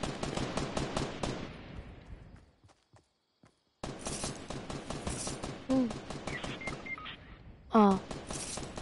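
Gunfire in Fortnite rattles in rapid automatic bursts, close and loud, breaking off into near silence before resuming with more volleys, while players talk over the shooting.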